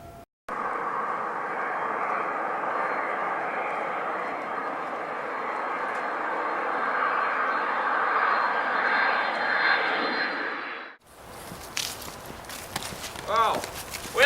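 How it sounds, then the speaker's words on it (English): A propeller aeroplane engine drones loud and steady for about ten seconds as it leaves, then cuts off abruptly into quieter background sound. "Why, yes, the aeroplane is leaving right now."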